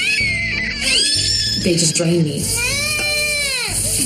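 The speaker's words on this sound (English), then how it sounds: "stop screaming" A child screams and cries loudly and without pause in a family home, with high, wailing sobs while an adult talks over the noise.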